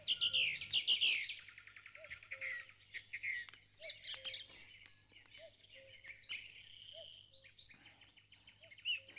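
A small bird, likely a sparrow, chirps nearby in a rapid series of bright tweets and short calls that stop and start again, over a faint steady hum, with no speech.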